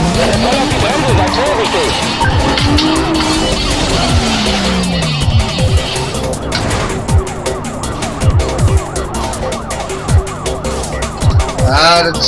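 Hard braking and tire screeching from a car in the racing video game Need for Speed Most Wanted, long sliding squeals mixed with engine roar and police sirens while someone talks over it.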